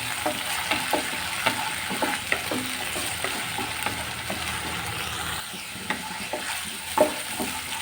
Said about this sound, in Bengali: এই জিরা, তেজপাতা, আদা, পেঁয়াজ আর রসুন কিন্তু খুবই সুন্দর করে মিক্সার করে ভেজে নিতে হবে